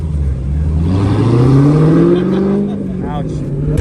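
A car engine revs hard with a slipping clutch, the pitch climbing and sagging in long rising sweeps during a street race between an Infiniti Q50 and a Toyota GR86, loud and close with people talking over it.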